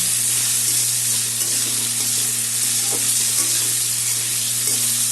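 Potatoes fry in a pan with bay leaf, whole cumin, turmeric and salt, giving a steady close sizzle with an occasional stirring scrape and a low hum underneath, no voices.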